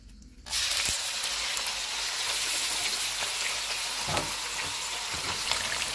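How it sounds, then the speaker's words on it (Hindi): Beef hits hot oil in a karahi over a full flame and a loud, steady sizzle starts at once, with crackling pops and occasional stirring clatter continuing throughout. "ऑयल गर्म हो गया है, इसमें बीफ डालेंगे"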